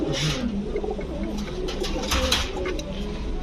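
Maxi racer pigeons, males, coo in a loft at close range, soft throaty calls repeating over a busy background of rustling and a faint voice.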